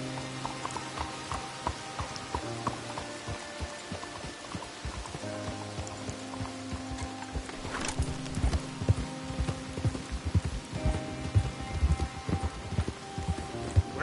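Steady clip-clop of horse hooves trotting at a regular pace in the video game Red Dead Redemption 2, layered with music and patter like rain, no voices.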